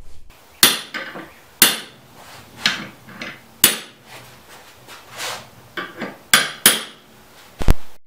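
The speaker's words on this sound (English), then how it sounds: "Place the pinch bar over the hoop and hit it with a hammer." Repeated sharp metallic strikes of a hammer on a pinch bar driving a hoop down a chisel handle, about a dozen irregularly spaced blows up close with brief ringing decay.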